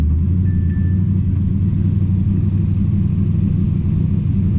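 A manual six-speed car engine revs with too much gas, a steady loud low rumble that holds throughout without easing off.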